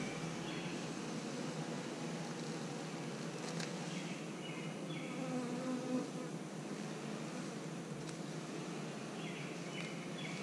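Honey bees buzz inside an opened hive box being checked for a queen cell, a dense, steady droning hum heard close and fairly faint, with no talking over it.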